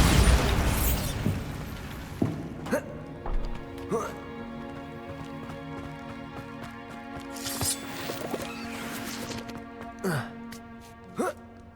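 A Bombarda blasting spell fired in Hogwarts Legacy gameplay, heard as several sharp explosive bursts spread over the stretch, over a sustained musical bed with other game effects.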